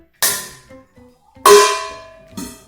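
A metal object is struck twice with bright ringing clangs that decay slowly, a lighter tap following the second strike.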